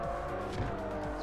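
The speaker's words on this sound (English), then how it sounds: "A little e-drift. Combined with a burnout," A car in Forza Horizon 2 drifts while doing a burnout, giving a dense, steady engine roar with tire noise. The burst is short and loud and has no talking.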